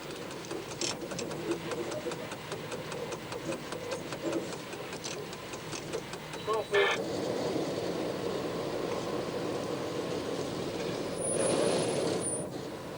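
CC 7107 electric locomotive running between Ambérieu and Modane in 2000: a steady, moderate rumble with a faint rhythmic clatter throughout, a brief sharper clank in the middle and a short high whine near the end.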